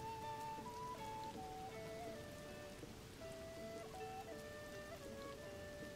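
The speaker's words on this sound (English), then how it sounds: "And now it's raining." Steady rainfall in The Legend of Zelda: Tears of the Kingdom near Hateno Village, a soft continuous patter of drops on surfaces under light game music, with no voices.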